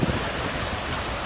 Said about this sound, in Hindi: और समंदर की लहरें